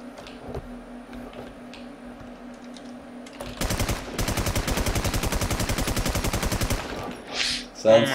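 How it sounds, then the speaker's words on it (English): A SCAR rifle in a video game fires a long rapid automatic burst of evenly spaced loud shots, preceded by quieter clicks and handling noises. "We were testing what the scar sounds like."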